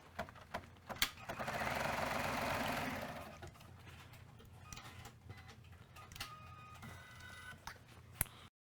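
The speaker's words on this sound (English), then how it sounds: "tape over it so that we can very easily and very carefully stitch this in place." Sewing machine stitching an eye mask, running in one steady whirring burst of about two seconds near, followed by quieter clicks and handling noises.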